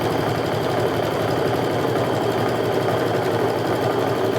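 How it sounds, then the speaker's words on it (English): A sewing machine runs continuously at steady speed, stitching a pocket onto a bag lining with a fast, even mechanical hum and rattle. "I'm also going to go ahead and stitch along the bottom of the pocket to secure it to the lining."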